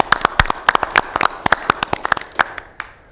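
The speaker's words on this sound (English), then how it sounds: "we should kind of give ourselves a round of applause" Scattered hand claps from a small group at a county board of supervisors meeting, a brief patter of separate sharp claps rather than full applause, fading out after about two and a half seconds.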